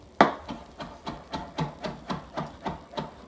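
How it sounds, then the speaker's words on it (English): A knife finely chopping curly parsley taps out quick, even strokes, about four per second, each a crisp close knock with no voices over it. "I'm chopping really fine"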